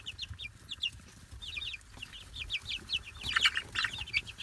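Baby chicks cheep in quick, high chirps close by while pecking at ground sunflower kernels, with soft scattered taps underneath and the peeping growing busier toward the end.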